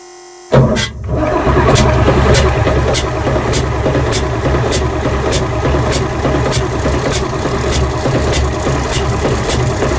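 A BMP infantry fighting vehicle engine, diagnosed for a fault, is cranked by the starter without fuel: a sudden loud onset, then a sustained rhythmic churning with regular pulses and no catch, close and alone.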